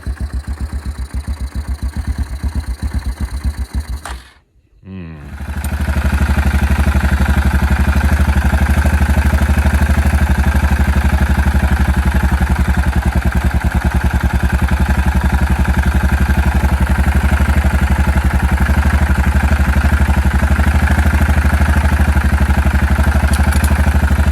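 A 2004 Yamaha Kodiak 400 ATV fitted with a TANG carburetor idles with a fast, even clatter. After about four seconds it cuts out briefly, then catches again and settles into a steady, loud, close idle.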